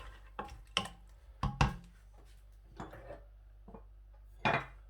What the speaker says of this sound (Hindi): एक बार मैं इन सब चीज़ों को अच्छी तरह से हिला दूंगा